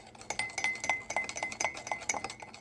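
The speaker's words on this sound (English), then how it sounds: "And stir that up." A spoon stirring hot milk with sugar in a cup, giving a quick run of bright, close clinks against the side, steady and rhythmic with no talk over them.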